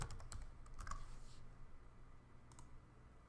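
Keys on a computer keyboard are typed in a quick burst of light clicks at the start, then a brief second flurry, faint and close against a quiet room hum, with no one talking.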